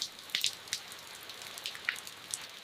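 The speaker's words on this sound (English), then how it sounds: "Oh, it's raining again." Rain in the Sinharaja rainforest of Sri Lanka, heard as scattered light raindrops pattering on leaves and surfaces, with irregular soft taps against a faint steady hiss.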